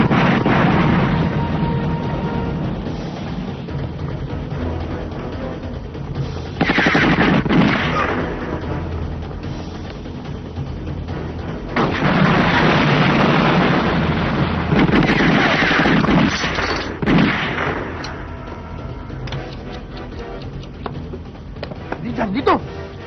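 Grenade blasts and gunfire in a Filipino action movie battle at a cemetery: loud, dense rolling explosions and bursts of shots, surging in waves over about twenty seconds, with voices shouting among them.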